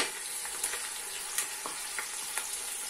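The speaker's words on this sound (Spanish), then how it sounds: "ahora dejaré que se haga bien la cebolla" Chopped onion, finely crushed and from one large bulb, frying in a pan: a steady, fairly quiet hiss with a few light pops and clicks scattered through it.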